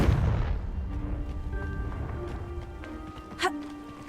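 A Confringo spell blast in the Hogwarts Legacy video game, a single sharp burst near the end rising out of a steady low rumble of game ambience, with speech present.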